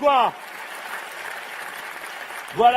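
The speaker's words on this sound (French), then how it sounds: "je le vois bien puisque vous applaudissez ce que je viens de dire" An audience at a closing political speech in Le Mans applauds in a steady, moderate wash of clapping, framed by brief bursts of a voice at the start and end.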